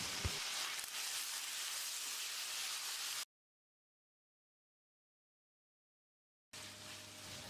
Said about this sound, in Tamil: 1 டீஸ்பூன் உப்பு சேர்த்து தக்காளியை மசிகிற அளவுக்கு வதக்கிடலாம்.